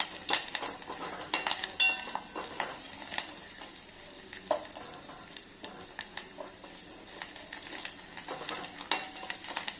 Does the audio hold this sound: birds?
no